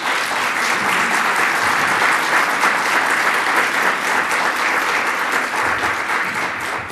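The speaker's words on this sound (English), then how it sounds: "Let's give our panelists a round of applause, please." A large audience applauds a panel discussion steadily, dense and loud clapping that holds at an even level throughout.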